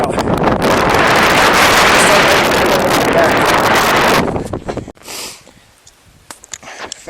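Strong, cold wind at a wildlife refuge buffets the microphone outdoors with a loud, steady roar for about four seconds, then drops away to quieter gusts and small handling sounds.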